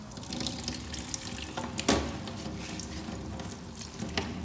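Tap water runs steadily in a surgery sink while dental instruments are rinsed, a continuous close splashing stream with small clinks and one brief sharper spatter midway.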